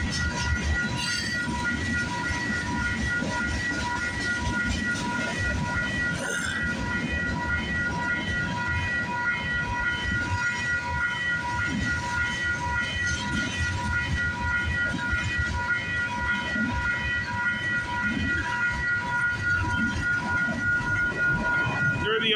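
A long freight train with old Burlington Northern hopper cars rolls past at a rail crossing in Toronto, making a continuous rumbling, rhythmic clickety-clack of wheels over track at steady close range.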